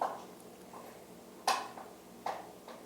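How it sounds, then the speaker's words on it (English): Rex the dog gnaws on his toy nearby, producing a few sharp, scattered clicks and crunches against a quiet room background, with no talking. "I apologize if you hear Rex in the background chewing on his toy."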